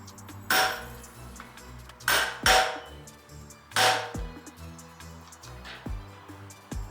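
A moped pedal pin being tapped out with a screwdriver used as a punch: four or five sharp metallic hammer blows at uneven intervals with ringing clinks between them, close up and without speech.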